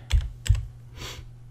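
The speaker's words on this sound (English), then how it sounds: "So I'm going to start typing in plant" Computer keyboard typing while entering a plant search in estimating software: a few close, sharp key clicks, two distinct taps then a softer cluster, with no talking.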